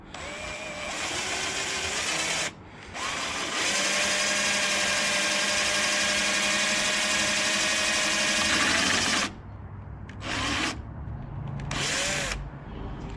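A power drill whines steadily at high speed drilling wood for a skiff boat's bow, pausing briefly twice, then spinning down and restarting in short bursts near the end as the bit rubs against a clamp.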